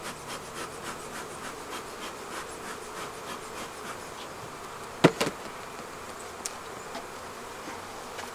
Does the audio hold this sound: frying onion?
no